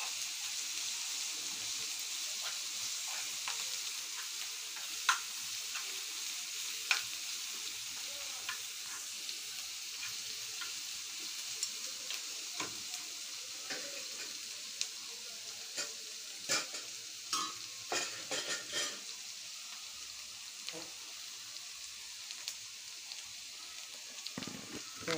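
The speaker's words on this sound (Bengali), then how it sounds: "মশলাটা কষাইতে হবে।" Chilli spice paste for a fish curry frying and sizzling in a pan, a continuous bright crackle with the scrape and tap of stirring rising through it at irregular moments.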